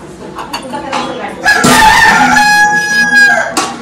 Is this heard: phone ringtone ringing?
no